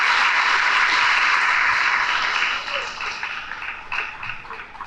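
A school audience applauds Clara with dense, loud clapping that starts strong and thins out toward the end as the hands gradually stop.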